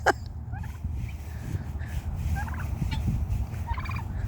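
Turkeys gobble in repeated bursts around a farmyard, with other fowl calls mixed in, fairly close over a low rumbling background.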